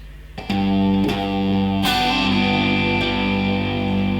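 Electric guitar plays a steady G-chord rhythm pattern: bass notes, strums, quick hammer-ons and pull-offs, loud and close with a slightly driven tone, no voices.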